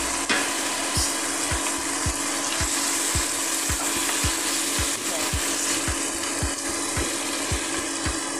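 Chicken sizzles in a pan alongside sautéed string beans, a steady loud frying hiss with regular knocking thumps from stirring throughout.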